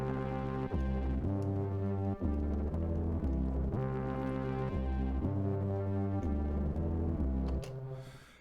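Electric guitar fed as a clean signal into the Hate plugin on its default preset, producing dense, buzzing sustained chords that change pitch every second or so for about eight seconds, then fade out.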